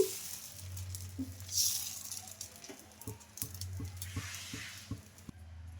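Rice-based dosa batter, made from leftover rice, sizzles softly on a hot pan. A low, steady hiss runs under a series of light taps and scrapes from a spatula, and the pan falls quiet at the end.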